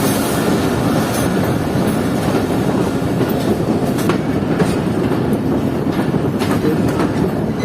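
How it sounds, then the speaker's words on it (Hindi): The Fareed Express rolls into Arifwala railway station in Pakistan with a loud, continuous rumble of wheels on track, carrying a steady clickety-clack and occasional sharp squeals throughout. "ट्रेन अप्रोच कर रही है आरिफ वाला रेलवे स्टेशन पर"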